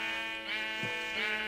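A sheep bleats in the Minecraft video game, a close, nasal, wavering cry lasting over a second, with a second bleat-like swell toward the end and no talk over it.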